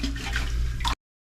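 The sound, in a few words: rinsing grout off tiles with a wet sponge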